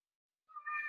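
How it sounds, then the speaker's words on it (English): A house cat meows once near the end, a clear, fairly close call that rises out of silence and holds briefly before the clip ends. "excuse my cat."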